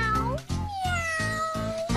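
A cat meows in a series of short, tonal calls, roughly five bright repeated mews in quick succession, close and clear with no talking over them.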